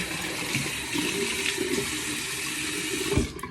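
Hot water running from a tap while rinsing during a shave, a steady close hiss and splash that continues for several seconds, with a few small knocks and a slight change in the flow near the end.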